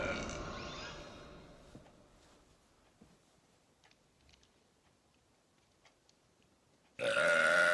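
A long, loud belch opens a Mummy burping parody and fades slowly into near-silence, followed by a sudden loud burst of noise right at the end.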